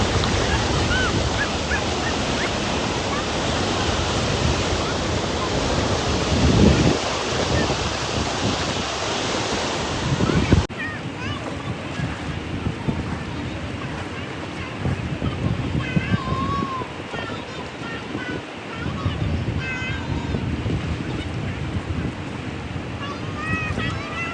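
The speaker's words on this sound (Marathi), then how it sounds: "मी आहे सध्या नदीत अंघोळ करतोय आणि उन्हात नदीत अंघोळ करण्याची मजाच वेगळी आहे" River water splashes and rushes steadily around someone bathing in a river under the sun, a broad wash that turns rougher and gustier partway through, with wind buffeting the microphone.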